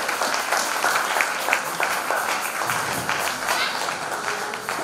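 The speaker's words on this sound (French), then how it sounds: "Est-ce qu'on peut acclamer pour la parole?" A church congregation applauding, many hands clapping in a dense, steady ovation that carries on evenly throughout, with some faint voices mixed into the crowd.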